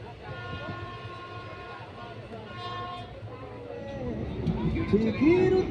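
A passenger train rolls along the railway on a long journey, a low steady rumble heard from inside the carriage with a horn tooting briefly, while a voice talks over it.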